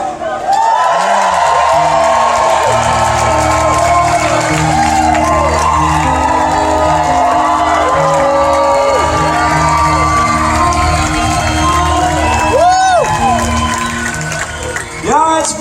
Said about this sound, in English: Is this the loudest crowd in Missouri or what?